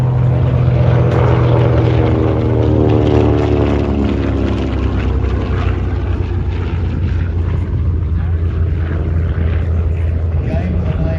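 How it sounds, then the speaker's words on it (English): A Grumman Avenger, the heavy WWII single-engine propeller aircraft, roars loudly overhead at an outdoor airshow, its deep engine drone rising and sweeping past in a continuous pass. "Heaviest single-engine aircraft to come out of the Second World War."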